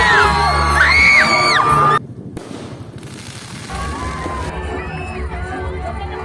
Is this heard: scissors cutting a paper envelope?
no